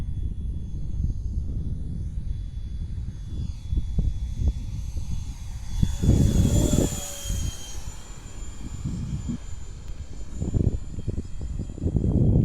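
A model F-86 jet flying at about half throttle makes a sustained turbine whine that swells into a louder whooshing pass midway, then recedes, heard outdoors at moderate distance with no talk.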